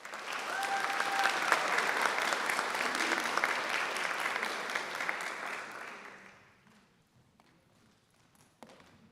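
Audience applause at a university graduate school awards ceremony, a full clapping roar that holds for about six seconds, then thins quickly to scattered faint claps and near quiet.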